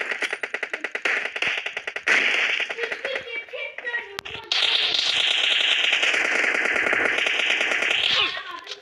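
Rapid bursts of automatic gunfire crackle in an arena match of an online shooter, with dense rattling volleys, a brief pause, then a long sustained stream of shots, while players talk over it.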